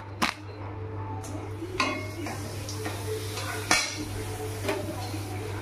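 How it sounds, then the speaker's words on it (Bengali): Papad frying in hot oil in a pan in a home kitchen, a low steady sizzle under sharp clinks and scrapes of utensils against the pan. "আমি একটু পাঁপড় ভেজে নিচ্ছি"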